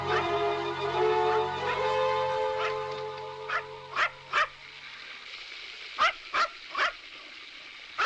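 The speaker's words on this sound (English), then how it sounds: "Do you hear a dog barking?" A small dog barks in short, sharp yips, first in a blurred run and then as scattered single barks that come in pairs, fairly close and with no talk over them.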